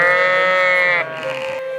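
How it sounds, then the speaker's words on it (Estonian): A sheep at an Estonian purebred livestock show bleats in one long, loud, strongly voiced call, close by, then gives a shorter, softer bleat over quiet background. "Traditsiooniliselt astusid esimestena publiku ette lambad."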